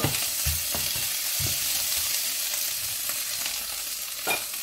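Provençal squid stew with olives is stirred in a pan over a bright, steady sizzle, with a few soft scrapes and knocks of the spoon near the start and end, close and without speech.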